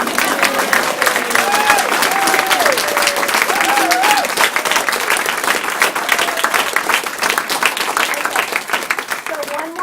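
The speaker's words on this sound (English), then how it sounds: "now you guys can applaud everybody." A crowd at a community center ribbon-cutting ceremony applauds in a dense, steady burst, with cheering voices and scattered talk mixed through the clapping.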